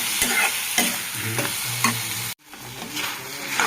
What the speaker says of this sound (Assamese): হালধি আৰু মৰিকেইটা দি আমি অলপমান এনেধৰণে লৰাই ৰাখিব লাগিব।